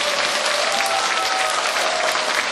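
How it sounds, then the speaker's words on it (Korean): Warm audience applause at a Korean singing lesson after a song accompanied live, a dense, even roar of many hands clapping that stays loud throughout. "여러분 뜨거운 박수 부탁드리겠습니다"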